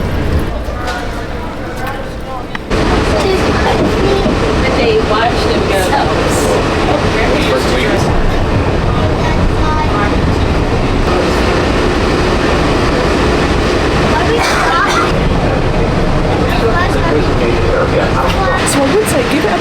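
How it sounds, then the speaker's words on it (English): Walt Disney World resort monorail riding at full speed, a steady loud rumble of rail and motor noise filling the cabin after a quieter start, with voices talking over it. "I'm going to go one over and get on the resort monorail."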